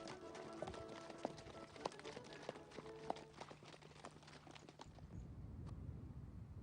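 Horses trot along a road with riders on a pilgrimage ride to a Loire riverside sanctuary. Brisk, rhythmic hoof clip-clops ring out for about five seconds, then fade into soft wind.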